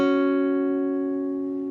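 Guitar notes from a song intro played slowly, one picked pair of strings sustaining and decaying gently, close and alone without talking.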